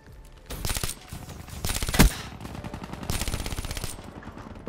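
Rapid bursts of VMP submachine gun fire in a video game, several fast automatic strings with a sharp single crack midway, loud and close, no talking.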